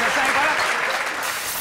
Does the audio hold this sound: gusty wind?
no